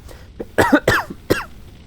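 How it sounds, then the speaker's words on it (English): A few sharp, close coughs in quick succession, three main bursts with a softer lead-in, no talking. "Sorry about that cough."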